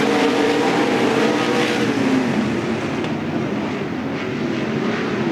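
Sprint cars from the Interstate Sprint Car Series race at Willamette Speedway, a sustained loud engine roar coming out of a turn, steady and continuous across the whole stretch with no talk.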